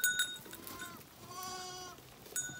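A lamb bleats in a village setting, a wavering, harmonic cry rising and falling over about a second, fairly close but soft, with faint bell-like clinks and quiet background noise around it.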